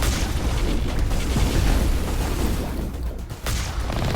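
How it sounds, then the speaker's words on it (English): A Colossus, a giant walking war machine in Mass Effect Legendary Edition, fires rapidly: loud, dense booms and heavy rumbling run almost continuously, with a brief lull near the end before the blasts resume. "It is firing quickly, my goodness. I think this is the fastest I've ever seen a Colossus fire."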